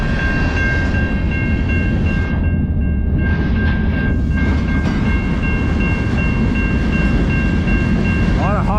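A freight train rolls past close by on tracks near Place St-Henri in Montreal. A loud, steady rumble and rattle fills the whole stretch, with a brief horn-like tone near the end.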